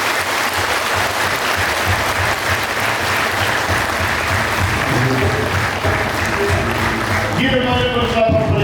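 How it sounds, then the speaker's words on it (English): A congregation at a healing service claps steadily in praise, the dense applause running throughout, with music and singing rising toward the end. "Give him a little clap of praise to the Lord."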